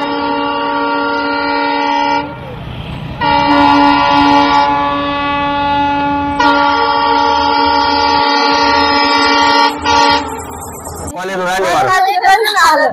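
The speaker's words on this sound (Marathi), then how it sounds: "आपल्या गावात की खेड्या गावात रेल्वे आलेली आहे" A train on the new Ahmednagar–Beed railway line sounds its horn in long, loud, sustained blasts close by, with a short break before the final blast, and brief voices follow at the end.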